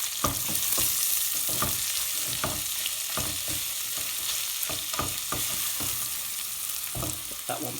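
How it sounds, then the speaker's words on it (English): Chopped onion stirred into a sizzling chicken curry base in a hot pan, BIR style, steady frying hiss with repeated scraping strokes of a spoon every half second or so, close and continuous with no talking. "Give it a good mix."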